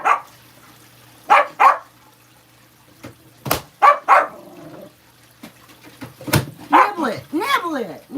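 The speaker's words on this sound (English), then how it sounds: "There goes my dog, y'all, my spaniel. She gets so upset when she hears loud noises." A spaniel barks and yips in short, sharp bursts, upset by loud noises in a home kitchen, with whimpering between barks and a person talking nearby.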